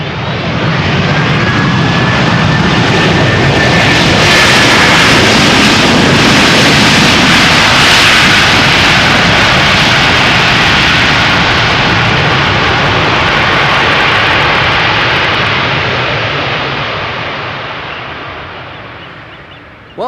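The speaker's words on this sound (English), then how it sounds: "at least the A330 made up for it with loud reversers" Airbus A330 landing at Amsterdam Schiphol, its thrust reversers roaring loud and broad for about twenty seconds before gradually fading out.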